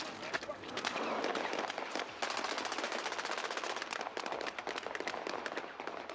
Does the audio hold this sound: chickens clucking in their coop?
no